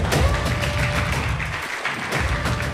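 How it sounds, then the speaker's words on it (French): Applause from an audience at a youth event, dense continuous clapping at steady volume throughout, no voice over it. "Est-ce qu'on peut s'applaudir s'il vous plaît?"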